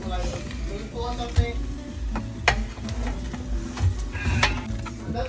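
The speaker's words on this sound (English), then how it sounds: "Turn them over so get the other side." Air-fried turkey wings being flipped over in the fryer basket, soft clattering and scraping with a few sharper metallic knocks over a steady fan hum, with someone talking.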